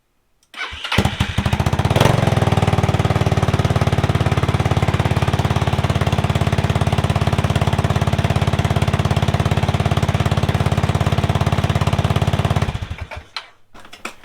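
A GY6 scooter engine fitted with a second battery cranks and catches, then runs at a loud, even rapid putter for around twelve seconds before shutting down and sputtering out, with no talk over it.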